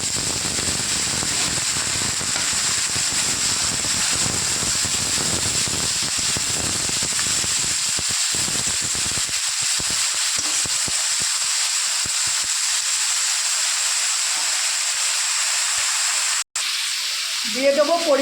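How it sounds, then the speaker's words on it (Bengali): Chopped eggplant hits hot oil with lightly browned garlic for a fenugreek-greens dish, giving a steady, loud sizzle and hiss that slowly thins toward the end, with a brief utensil clink near the close. "এবার দিয়ে দেবো কুচনো বেগুন।"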